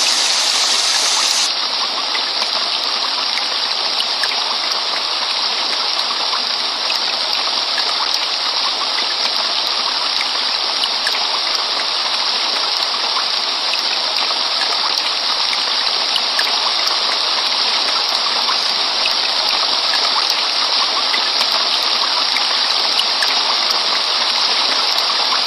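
Water runs steadily across limestone rock, a continuous broadband gush like a stream or small cascade, loud and close, holding constant for the whole stretch with no talking.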